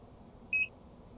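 A single short electronic beep sounds from a train control panel in the U-Bahn Hamburg video game, clear and brief over a faint background hum.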